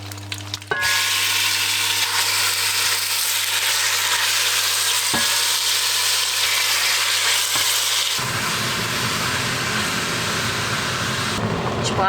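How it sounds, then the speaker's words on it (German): Steady loud sizzling and frying of meat and yellow curry paste in ghee in a hot pan, with occasional stirring scrapes and a low hum underneath that cuts out near the end. "Ich brate jetzt schon die Currypaste mit an."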